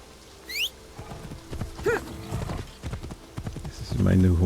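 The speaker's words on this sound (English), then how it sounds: "This is my new horse." Horse in the Assassin's Creed Shadows video game, heard as a steady run of clip-clopping hooves with a brief whinny and bird chirps, beneath someone talking.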